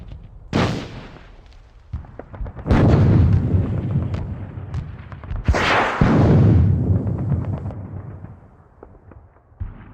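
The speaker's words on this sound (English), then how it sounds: "let's try and put our mortars to good use" Mortar fire in the war game Squad Battles Eagles Strike: two heavy booming blasts a few seconds apart, each with a sharp onset and a long rumbling decay, plus a few smaller distant thuds in between.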